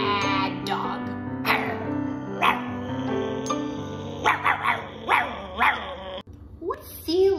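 A person imitating a mad dog, voicing a run of growling barks and yips, close and loud, in a series of short bursts with brief pauses.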